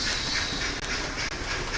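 A model train runs around a home layout past a window, a steady close rumble with rhythmic clicking of wheels over track joints, no voices.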